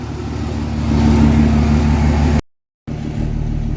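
A heavy diesel truck engine rumbles loudly, revving up to a deeper roar, briefly cutting out, then resuming its throaty idle.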